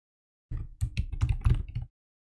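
Computer keyboard typing while filling in an online application form, a quick run of clicky keystrokes for over a second with no talking.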